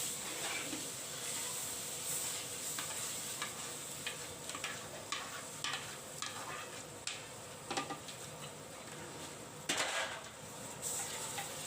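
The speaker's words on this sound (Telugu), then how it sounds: "ముందుగానే ఉడికించుకున్న కందిపప్పును వేసుకొని కలుపుకోవాలి" Cooked toor dal being stirred into softened tomatoes in a pot for tomato pappu, a spoon scraping and tapping against the pot in uneven strokes over a faint sizzle, close by with no talk.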